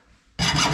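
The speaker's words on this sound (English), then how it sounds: "Just have to use a hacksaw or something." Hacksaw starting to cut a bent brake line on a 1951 Chevy Fleetline, a single loud, close rasping stroke that cuts in abruptly after a moment of near silence.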